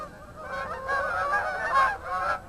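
A young flock of geese honking repeatedly in a steady, overlapping chorus, fairly loud and close, with no talking.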